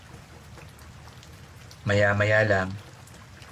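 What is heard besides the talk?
light rain starting to fall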